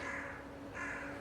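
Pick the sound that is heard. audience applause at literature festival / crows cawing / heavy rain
crows cawing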